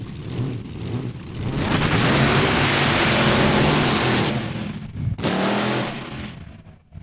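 A race car at Saskatchewan International Raceway in Saskatoon roars loudly and continuously as the driver works on and off the pedal. The engine drops away briefly, surges again, then fades.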